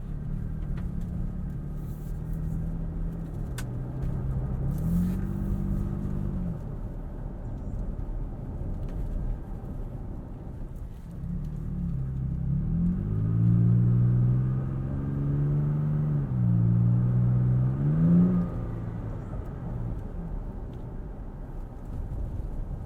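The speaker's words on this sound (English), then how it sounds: "I think it's a decent sounding engine, and paired with the TRD exhaust" A 2020 Toyota Tacoma TRD Off-Road fitted with a TRD exhaust, driving, its engine droning steadily then swelling into a louder, rising pull with revs climbing and falling, heard from inside the cab.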